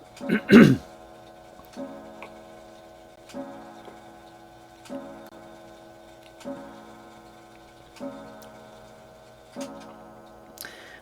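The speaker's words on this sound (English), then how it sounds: "I'm going to let that clock go ahead and chime the 11th hour." A clock ticks and chimes the eleventh hour, a struck bell tone at the start followed by five evenly spaced ringing strikes that fade between each, heard alone.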